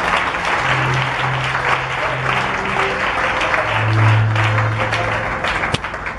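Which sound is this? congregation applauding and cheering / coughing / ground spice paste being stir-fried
congregation applauding and cheering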